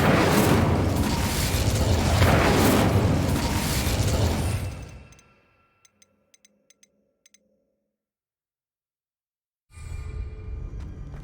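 In the video game Hogwarts Legacy, an Incendio fire spell is cast as a loud, roaring burst of flame that fades over several seconds. A few faint ticks follow in near silence before another rush of sound starts up.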